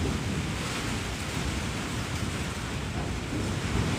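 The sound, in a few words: wind blowing outdoors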